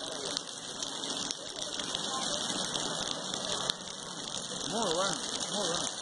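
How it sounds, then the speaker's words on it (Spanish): Steady rain falls on an outdoor surface in Encarnación, Paraguay, a continuous even patter throughout, with a voice speaking faintly beneath it near the end. "Está lloviendo"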